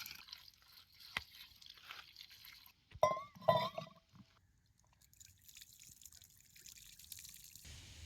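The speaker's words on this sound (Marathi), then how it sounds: "आता हे कारलं धुवून घ्यायचं" Salted bitter gourd is rinsed in water, giving faint drips and trickles with a couple of louder splashy clinks partway through, close by and with no talk.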